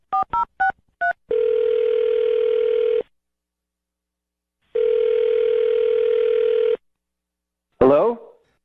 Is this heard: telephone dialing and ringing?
yes